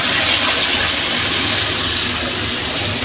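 Water pouring steadily into a pan of Bengali potato and egg curry (alu dimer jhol), a continuous loud gushing splash with no pauses.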